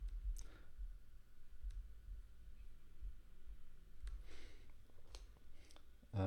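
A computer mouse gives a handful of faint, sparse clicks at irregular intervals against a quiet low hum, with no talking.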